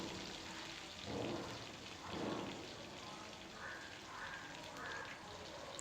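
Onions and curry leaves fry in hot oil for a tamarind curry with drumstick and brinjal, giving a soft, steady hiss and crackle and a few louder swells of sizzling, without talking.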